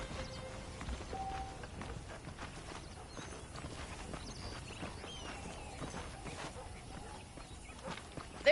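Horse hooves clip-clop at a steady walking pace in the Red Dead Redemption video game, faint and continuous over a low ambient background, with no clear talk.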